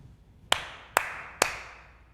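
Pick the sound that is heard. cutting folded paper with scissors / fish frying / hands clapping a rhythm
hands clapping a rhythm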